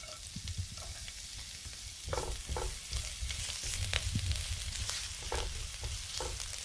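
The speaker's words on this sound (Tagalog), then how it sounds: "Mainit naman na ang ating kawali. Igisa na natin ang ating bawang." Garlic sautéing in olive oil in a hot kawali, giving a steady close sizzle and crackle with occasional stirring scrapes and a slight lift in intensity partway through.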